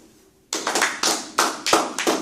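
A church congregation applauding Jesus: loud rhythmic clapping breaks out suddenly after a quiet moment, with steady, evenly spaced bursts in close unison from many hands, and no talking over it.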